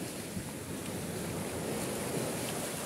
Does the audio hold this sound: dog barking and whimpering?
no